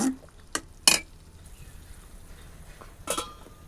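A spoon clinks and scrapes in a pan while okra gravy is stirred after water is added, giving a few sharp metallic taps over a soft sizzle, with quiet gaps between the strokes.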